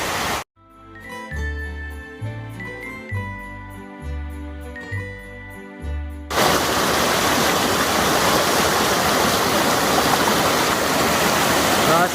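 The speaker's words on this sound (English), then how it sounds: "we've got these nice cascading waterfalls we get to look at as we hike" Cascading waterfalls beside a hiking trail, a broad steady roar of rushing water that swells in loudly after a stretch of music and stays constant to the end.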